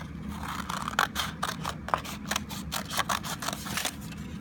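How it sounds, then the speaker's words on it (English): Scissors snip steadily through sheets of painted paper for a landscape collage, a close run of crisp, evenly spaced cutting clicks with no talking. "Okay, now I can cut that out."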